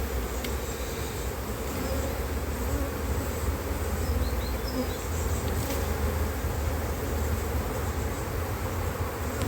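Dense, steady buzzing of many honeybees around an opened beehive, loud and close throughout, with no voices.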